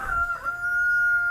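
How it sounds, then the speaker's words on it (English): A pet rooster crows once, a short sustained cock-a-doodle-doo at moderate distance, standing alone with no talking. "on cue, that's my rooster, Russell Crowe."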